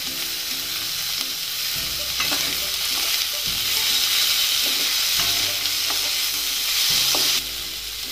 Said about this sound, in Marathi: कांद्यामध्येच आपण दोन टोमॅटो ते पण परतून घेणार आहोत छान मऊ होऊसपर्यंत